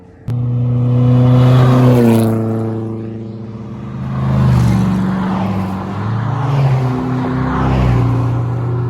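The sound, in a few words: Maserati race car engine revving past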